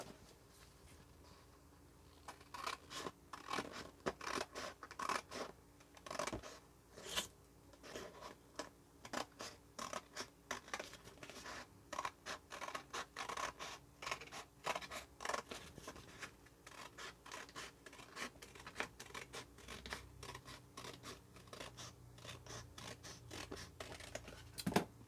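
Scissors cutting out a piece for a DIY summer or fall decoration, a long run of quiet close snips and paper rustles in irregular bursts with short pauses.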